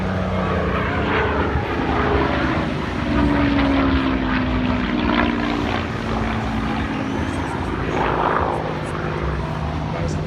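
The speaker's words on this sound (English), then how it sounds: "Lovely sound of the supercharger." Hawker Hurricane aero engine with its supercharger at the 2019 Bournemouth air show, a loud steady propeller drone with a rising and falling whine as the aircraft passes, under crowd noise and some talk.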